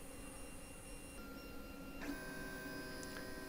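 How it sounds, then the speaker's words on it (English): A 3D printer performs a small filament retraction at the nozzle, giving a faint motor whir and brief tonal stepper sounds over a steady mechanical hum. "It's doing a little retraction to hopefully remove any ooze that might appear on the nozzle."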